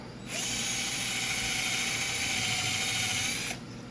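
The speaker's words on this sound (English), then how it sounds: "One is to use a barrel trimmer." A barrel trimmer whirs steadily while trimming the end of a pen blank made from recycled HDPE plastic caps and scraps, a close, even mechanical whine lasting about three seconds and then cutting off.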